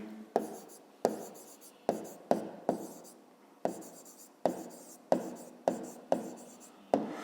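Pen strokes scratch across paper while a math exercise is written out, short bursts of scribbling about a dozen times separated by brief pauses, close and quiet with no speech.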